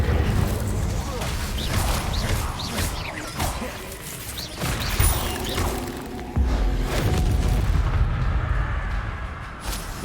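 Incendio fire spell cast in the Hogwarts Legacy video game, a series of whooshing, booming bursts over dense game noise with a voice talking throughout.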